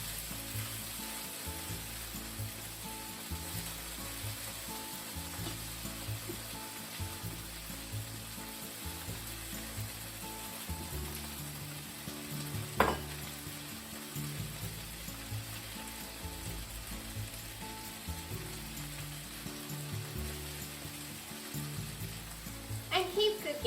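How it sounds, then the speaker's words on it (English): Sliced leek frying in a pan for yakitori don, a soft, continuous sizzle with faint rhythmic stirring. A single sharp click sounds partway through. "keep cooking until the leek is nicely brown too"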